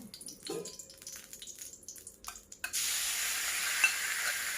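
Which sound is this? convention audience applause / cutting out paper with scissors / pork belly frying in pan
pork belly frying in pan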